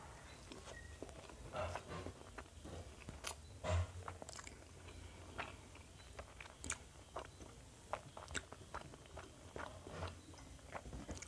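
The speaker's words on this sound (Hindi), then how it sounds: "चटनी के साथ खाती हूँ।" Close-miked ASMR eating of South Indian idli with chutney: soft, moist chewing and occasional bites over a low, steady background hiss.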